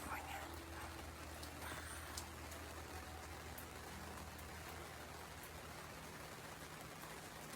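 Rare summer rain in Northern California falls as a steady, even hiss of drops across dry grass and weeds, faint and continuous outdoors.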